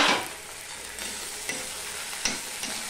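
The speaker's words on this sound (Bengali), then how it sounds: "এবার এটা ভালো করে আমি কষিয়ে নেব।" Onion, ginger paste, tomato and green chili sauté in a pan, a soft continuous sizzle with a few sharp scraping stirs of a spatula at intervals, close and moderately quiet with no talking.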